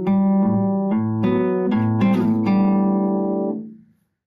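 A guitar plays the intro to a song, with a run of picked notes and a fourths slide down to open strings. The notes ring out clearly, then fade to silence near the end.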